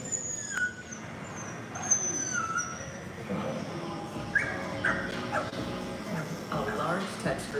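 A dog gives a few short yips and whimpering barks under a spoken voice-over and background music in a Subaru Crosstrek car advertisement, the dog sounds fairly faint and intermittent beneath the talk.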